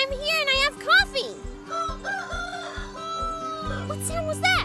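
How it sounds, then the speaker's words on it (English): A rooster crows on a farm in a children's cartoon, heard over a bouncy music track with a steady beat, and a voice speaks briefly near the start. "What sound was that? Oh, the rooster!"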